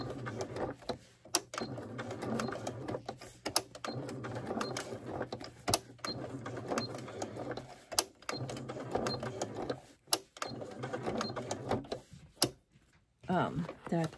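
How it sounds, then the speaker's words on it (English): Sewing machine running in bursts while stitching around a figure's eyes with black thread for a Santa handbag, stopping and starting repeatedly with short pauses, close and moderately loud, with some background sound. "am using a black thread to stitch around his eyes"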